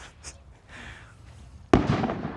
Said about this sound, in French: N'ayez pas peur des feux d'artifice.